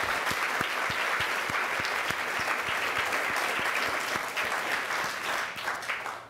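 Sustained audience applause at a literary award event honoring three Story Prize finalist writers, steady and fairly distant in a large room, with a few sharp close claps standing out before it tapers off.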